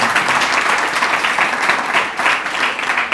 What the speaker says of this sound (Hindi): ताली बजाना